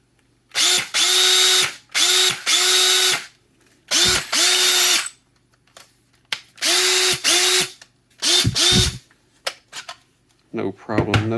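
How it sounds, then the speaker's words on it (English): A Makita LXP 801 half-inch hammer drill runs on an 18V replacement battery in six short bursts, each spinning up with a loud whine and stopping, separated by brief pauses and followed by clicking handling sounds. "Just a good old hammer drill."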